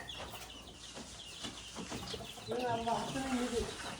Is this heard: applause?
no